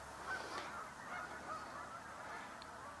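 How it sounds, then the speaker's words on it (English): A large flock of geese flies in overhead, scattered honks sounding faint and distant over quiet outdoor background noise. "sounds like a whole bunch of geese coming in"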